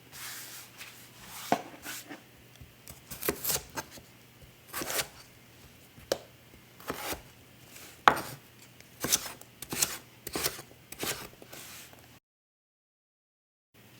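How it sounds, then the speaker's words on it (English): A knife chops potatoes firmly on a cutting board in irregular bursts of sharp, close thuds, then stops into silence near the end. "Once you're done chopping all your potatoes"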